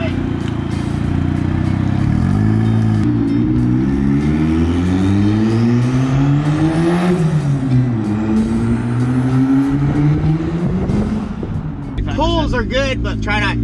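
A turbocharged Honda Civic accelerating hard through the gears, the loud engine note climbing in pitch with each pull and dropping at the shifts, then settling as speech comes in near the end.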